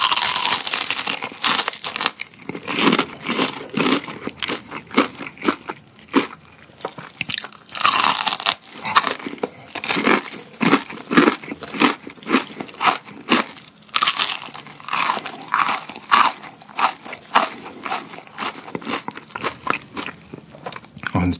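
Crunchy fried chicken being bitten and chewed up close, in a fried potato-coated Korean chicken, with loud crisp crackling bursts repeating steadily through the whole stretch, no talking.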